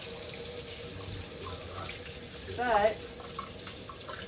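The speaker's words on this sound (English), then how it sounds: "wash my hands real good" Running water from a kitchen tap splashes steadily into a sink during handwashing, with a brief louder surge of spray, and a voice speaks briefly over it.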